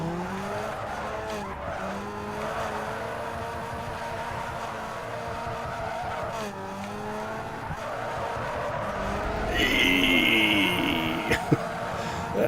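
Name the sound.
car drifting with tire skid, Need for Speed Underground 2 video game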